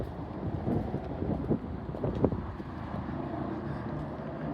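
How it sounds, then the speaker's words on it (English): Wind buffets the microphone on a high, exposed walkway above a city, with steady low rumbling gusts and a few sharper bumps throughout. "can't stay up here, it's too windy."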